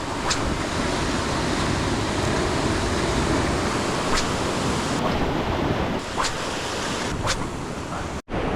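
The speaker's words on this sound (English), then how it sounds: "I'm going to start the trek on the beach now." Waves wash steadily onto a rocky beach on the flats, a continuous broad roar of surf with wind buffeting close by and no voices.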